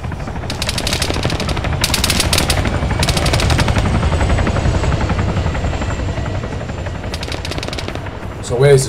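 A military helicopter in the Arma 3 video game churns loudly and continuously, its rotor thump joined by bursts of rapid automatic gunfire that come and go over the drone.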